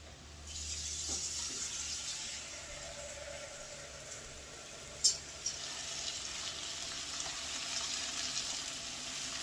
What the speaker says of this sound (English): So let's get some water in there.